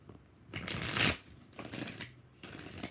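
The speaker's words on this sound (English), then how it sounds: "Two more shuffles." Tarot cards shuffled in three separate riffling bursts, the first the loudest and longest, with short pauses between and no talking.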